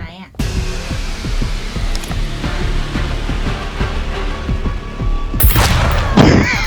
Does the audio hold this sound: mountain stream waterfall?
no